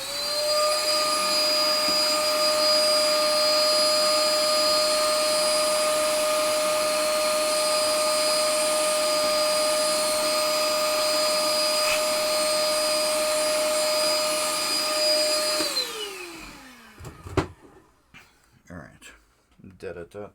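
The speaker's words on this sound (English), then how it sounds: "Let's vacuum that area right up there a little better." A vacuum cleaner runs on the board area of a 1974 Gottlieb Capt Card pinball machine, giving a loud, steady whine that holds for about fifteen seconds, then winds down and stops, leaving scattered clatter and handling noises.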